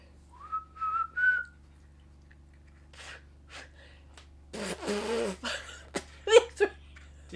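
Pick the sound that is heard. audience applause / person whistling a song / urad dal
person whistling a song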